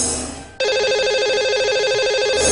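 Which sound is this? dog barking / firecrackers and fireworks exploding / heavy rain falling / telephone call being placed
telephone call being placed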